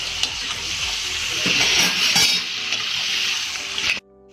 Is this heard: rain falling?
no